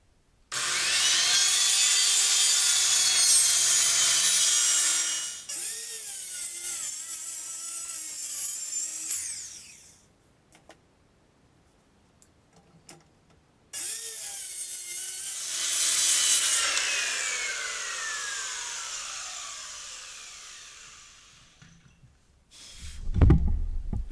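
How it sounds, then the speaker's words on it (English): Skill saw cutting plywood for a duck boat build, two long loud whining passes separated by a quiet pause, each winding down as the blade slows, ending with a few clunks. "I've used planers and sanders and routers, but never a skill saw."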